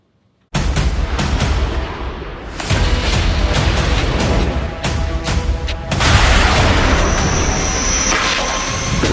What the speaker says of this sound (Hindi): जिस तरह से धमाकों की आवाज रुक रुक कर आती है